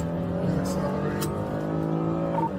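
Police pursuit car accelerating on a northbound highway while chasing suspects: a steady, droning engine hum with a rising harmonic tone, with some talk over it.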